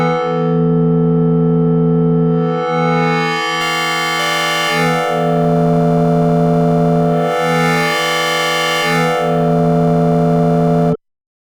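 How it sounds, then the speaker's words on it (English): A Katla synthesizer's wavefolder bends a plain sine tone into a loud, sustained metallic buzz whose bright, harsh overtones swell and recede in sweeps before cutting off abruptly. "This transforms a simple sine wave into a metallic, aggressive timbre."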